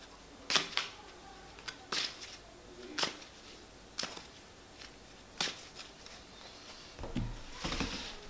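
Tarot cards from a Mucha deck being drawn and laid down, a series of crisp, close snaps and flicks spaced roughly a second apart, with soft shuffling between them and no voices.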